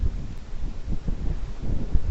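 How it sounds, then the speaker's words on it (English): Wind gusts outdoors on a short walk past a large mansion, a steady low rumble of buffeting against the microphone with rising and falling surges, no voices. "Windy."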